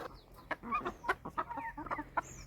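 Chickens cluck and chatter close by while being fed wheat and maize grain, a string of short, soft calls at a low level.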